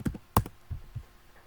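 Several light keystrokes on a computer keyboard tap out a short, uneven burst of typing, close and quiet with no voices.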